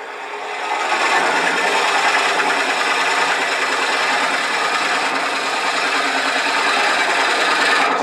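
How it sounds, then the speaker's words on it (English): A drill bores steadily through dry wood at a low speed of around 500 rpm, a continuous close grinding rasp that holds evenly for several seconds with no talk. "I'm going to turn the speed down and bring it up to no more than about 500 rather, and then drill that hole."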